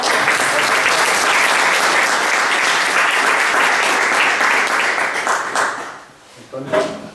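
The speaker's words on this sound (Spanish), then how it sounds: "Un aplauso para ellos" Loud, dense applause from a lecture audience, steady clapping for several seconds before fading out, followed by a brief voice at the end.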